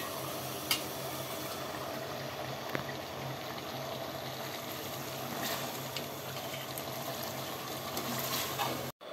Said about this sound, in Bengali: আজকে ফ্রাই করছি, পোলাওয়ের মতো হবে